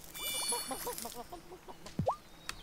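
Chickens clucking in the farming video game Wylde Flowers, a rapid run of close, bright clucks followed by a single rising squawk and small plops, heard alone without talk.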